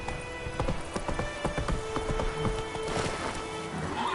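Roach the horse gallops through The Witcher 3, its hooves clip-clopping in a quick, steady rhythm against game ambience, with a brief whinny-like tone near the end.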